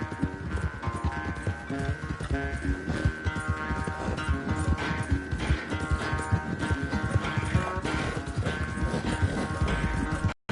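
Horse hooves galloping in Red Dead Redemption II, a fast, steady clip-clop rhythm close and loud throughout, with a brief whinny and game music underneath, cutting off at the very end.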